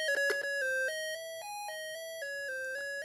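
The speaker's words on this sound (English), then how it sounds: "That's what you're hearing is Raiders of the Lost Ark." Atari 2600 Raiders of the Lost Ark game music plays as a short, clean sequence of steady square-wave tones stepping between pitches, faint and alone.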